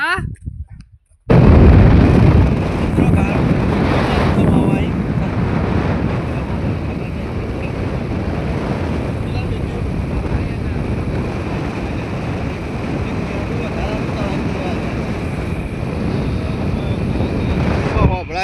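Wind buffeting a microphone while riding a motorbike on the way to a film shoot, a loud steady roar filling the whole stretch after a brief quiet start, with voices talking underneath.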